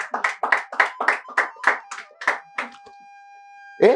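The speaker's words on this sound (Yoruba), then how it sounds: "Ẹ pàtẹ́wọ́ fún mi." On a Yoruba-language TV game show, a studio audience claps on request: about nine strong, rhythmic beats in a row that stop at once, then a short electronic tone rings out alone.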